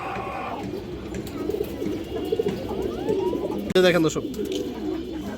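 Pigeons, among them a female Raw Pankhi, coo close by in soft repeated phrases, with someone talking over them and a brief loud flutter near the end.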